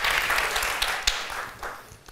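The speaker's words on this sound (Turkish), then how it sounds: "Bir de kocaman alkış orkestramızı alabilir miyim?" Audience at a Turkish late-night talk show applauding the house orchestra, dense clapping that fades over the final second.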